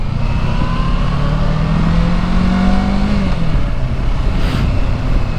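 Kawasaki Versys 650 motorcycle engine revving steadily while riding, a loud continuous drone with rising pitch sweeps as it accelerates through the gears, no talk over it.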